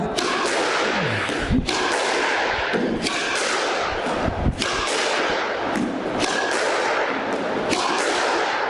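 Squash ball struck with a racket down the middle of the court in a depth drill, a handful of sharp, loud thuds at irregular spacing over a noisy, reverberant court background.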